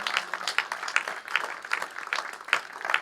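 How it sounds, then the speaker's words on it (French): Steady applause from a room of people, many hands clapping together for a few seconds with a lively, even patter. "on peut l'applaudir"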